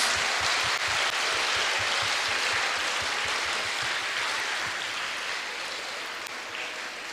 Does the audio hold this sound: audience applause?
yes